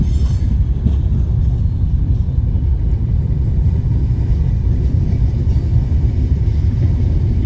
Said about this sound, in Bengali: ট্রেন আসছে, আপনাদেরকে আগে ট্রেনটা দেখাই তারপর।